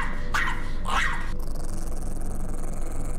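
A dog barks and growls inside a car, jumping up on the dashboard at a passing driver; two loud, close, harsh bursts over steady road rumble, then only the engine drone.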